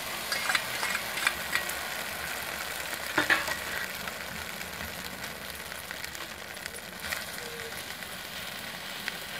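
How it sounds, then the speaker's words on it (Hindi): An egg dropped onto a ghee-greased tawa gives a steady, low sizzle with faint crackles and a few light utensil taps, continuing evenly throughout. "अब तवे पे अंडा डालेंगे।"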